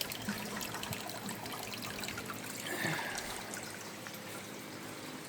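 Pond water trickles softly while plants are watered, a faint, continuous wash of liquid with no speech over it.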